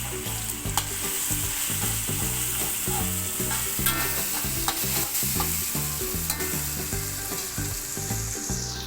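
Ginger garlic paste, two tablespoons of it, stirred and frying in a pan for moong bean dal, with steady sizzle and crackle under rhythmic scraping strokes of a spoon, close and continuous throughout.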